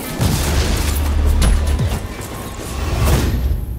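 A frag grenade detonates in the Ghost Recon Online game on a submarine pen map, a loud deep boom with rumbling low-end blasts and whooshing debris that swell and fade across the moment, no talk over it.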